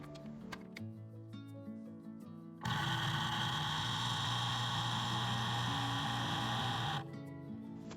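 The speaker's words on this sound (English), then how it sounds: "once you've finished food processing your cauliflower rice" Food processor pulses cauliflower into rice, a loud buzzing whir that runs about four seconds between quieter stretches of light ticking and kitchen clatter.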